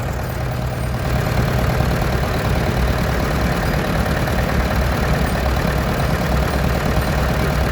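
Vintage tractors, some of them non-European, drive past in a steam rally parade, their engines a steady, loud, low rumble with a knocking chug that holds level throughout.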